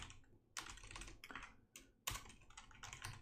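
Code being typed on a computer keyboard, with quick bursts of close, crisp key clicks broken by short pauses and no talking.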